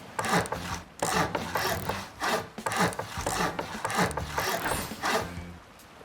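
Wall construction in the survival video game Rust, with loud, repeated wooden rubbing and sawing-like building sounds that come in several bursts over about six seconds, with no talking.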